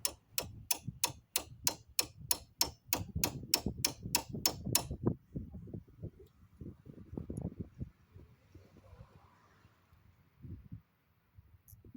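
Brake caliper bolts on a 2002 Saturn SL1 gently tapped with a hammer: about a dozen sharp, evenly spaced metallic taps in quick succession, then quieter handling clunks and faint knocks.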